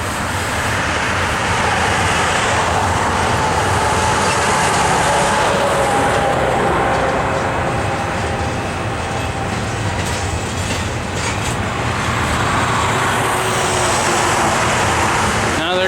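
A CSX freight train locomotive throttles up at a rail yard, a loud continuous rumble with rolling rail noise that holds steady throughout.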